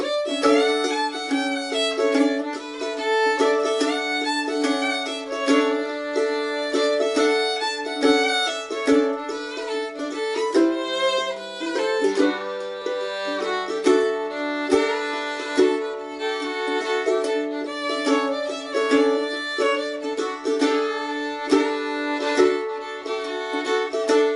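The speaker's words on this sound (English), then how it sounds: "the tune Over the Waterfall played on the fiddle" A fiddle plays the old-time tune Over the Waterfall alone, a steady, bright melodic line with double-stop drones and a lively bowed rhythm running throughout, close and clear.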